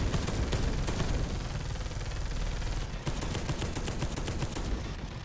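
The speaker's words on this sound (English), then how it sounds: "Those are las cannons." Las cannon fire in Space Hulk: Deathwing, a dense, loud, continuous barrage of rapid crackling shots that blur into a roaring wall of noise and keep going the whole time.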